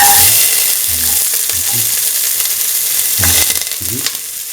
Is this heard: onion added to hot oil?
yes